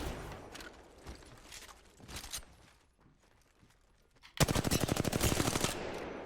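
Gunfire in Apex Legends at a target on a practice range: a few scattered shots, then a loud, rapid automatic burst near the end.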